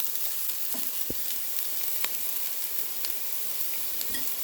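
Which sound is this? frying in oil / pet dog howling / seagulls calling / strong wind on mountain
frying in oil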